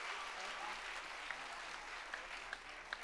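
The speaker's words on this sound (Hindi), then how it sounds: "इनके लिए इतनी तालियां बहुत कम है" Audience applause filling an auditorium, a steady wash of many hands clapping at an even level with a few sharper claps standing out; voices mix in faintly.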